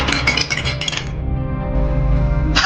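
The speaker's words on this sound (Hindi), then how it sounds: "किचन से कुछ बर्तनों की गिरने की आवाज आती है" Kitchen utensils and metal pots clatter and clink as they fall in a horror animation, with a loud jumble of crashes followed by a ringing decay and one more clink at the end.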